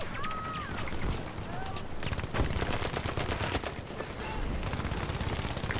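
Battlefield V gunfire in a dense firefight, with rapid overlapping rifle and machine-gun shots cracking continuously and close, over a background of battle noise and faint voices.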